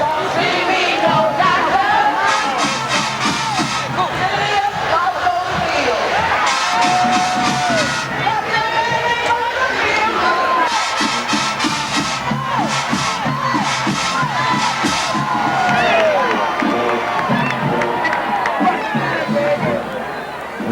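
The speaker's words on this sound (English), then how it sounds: "you hear the crowd cheering for you" A dense, loud crowd cheers and roars at a Southern University marching band performance, a steady wall of voices with shouts and yells throughout, and people talking close by.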